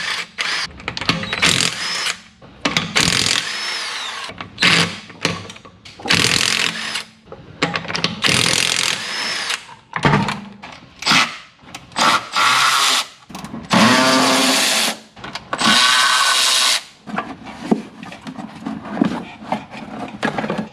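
A power tool, likely an impact wrench, works on removing a wheel from a Mercedes W211, firing in repeated loud bursts of whirring and rattling separated by short pauses, close and dominant.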